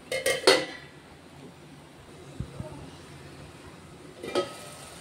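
A metal lid clanks onto a pot of simmering tomato curry, with a brief clatter at the start and another near the end, and a low quiet kitchen background between them.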